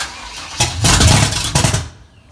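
A father's car engine cranks, catches and revs hard for about a second, then settles and drops away as the motor dies out, loud and close with no talking over it.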